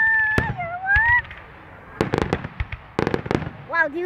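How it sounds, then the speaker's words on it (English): A big firework bursts in several sharp, loud cracks and pops spread over a few seconds, with someone talking in a high voice and whistling tones between the blasts. "Because this is a big firework."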